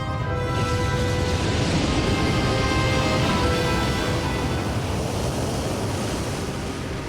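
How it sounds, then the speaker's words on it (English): Massive ocean waves surge across the Atlantic, a dense, continuous roar of surf and wind at steady high loudness with no break for the full stretch. "The waves are still almost as massive as when they began."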